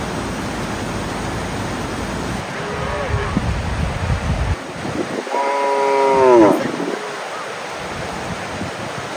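Cows moo as they come home in rural Nuristan, Afghanistan, a drawn-out lowing call rising near the end over a steady rushing river-like background noise.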